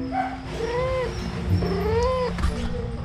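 A house cat yowls and caterwauls in a fight, with long rising and falling wails repeating across three seconds, loud and close, without speech.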